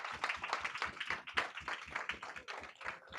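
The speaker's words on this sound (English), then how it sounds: "continue your applause for our chat host, Joe Jensen, holding it down online" Quiet, sparse clapping from a small group at a civil society town hall, a loose irregular patter of individual claps that sounds thin and distant.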